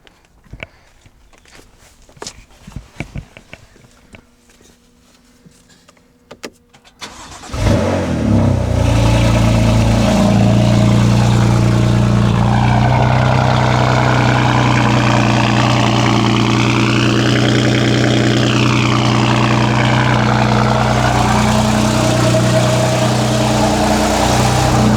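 A BMW F82 M4 Competition engine cranks and catches after its battery is connected, then settles into a loud, steady idle with a low rumble; faint clicks and shuffling come before it starts.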